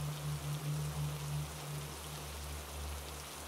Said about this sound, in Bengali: রাত যত বাড়ল বৃষ্টির বেগ ততই বেড়ে চলল।